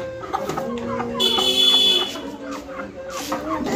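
Chickens for sale at a small neighbourhood shop give short clucks and calls among people talking nearby, with a thin steady background hum.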